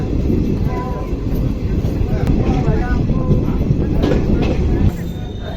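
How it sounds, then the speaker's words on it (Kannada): DEMU express train 11415 pulling into Lachyan station, a steady loud rumble of wheels and engine throughout with faint rattles, while a voice talks over it. "ಟ್ರೈನ್ ಈಗ ಲಚ್ಚಾನಕ್ಕೆ ಬಂತ."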